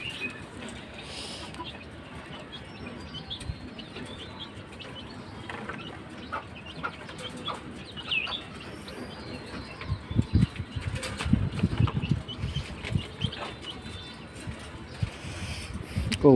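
Backyard pigeons and chickens kept together: cooing and soft bird calls with occasional clucks, rustling and wing flaps, rising busier toward the end, with faint voices now and then.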